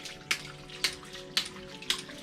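A homemade ram pump clicks and sends water up in pulses, four evenly spaced sharp knocks about half a second apart over a continuous trickling, splashing water sound.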